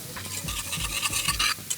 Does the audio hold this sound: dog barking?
no